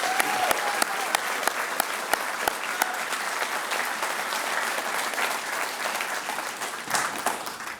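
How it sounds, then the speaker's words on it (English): A graduation crowd claps for the York River Academy Class of 2023, sustained even applause from a large audience with a few sharp close claps standing out, fading slightly at the end. "Can we give a big round of applause for these students one more time?"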